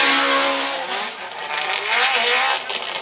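Drift cars battle in a twin run at Formula Drift Japan, Suzuka, with engines screaming at high revs and tires hissing in a sustained, loud wash of sound.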